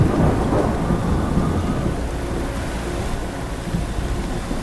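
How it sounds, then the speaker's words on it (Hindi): A heavy thunderstorm with torrential rain and hail, a dense, continuous roar of rain with deep rumbling thunder, loud and steady throughout, without voices. "बाहर बिजली कड़क रही है"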